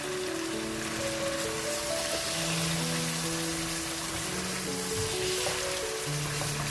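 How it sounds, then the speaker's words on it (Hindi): Meat fries in a pan with garlic ginger paste and salt, making a steady, moderate sizzle under sustained melodic background music. "अब आपने इसको अच्छा सा फ्राई करना है लहसुन अदरक के पेस्ट और नमक के साथ"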